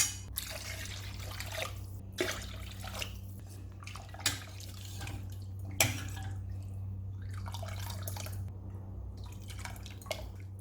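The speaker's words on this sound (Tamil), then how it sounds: "இப்போ தேவையான அளவு தண்ணி சேர்த்துக்கலாம்" Water poured into a pot of mutton bone rasam, heard as irregular drips and trickling splashes over a steady low kitchen hum, with no talking.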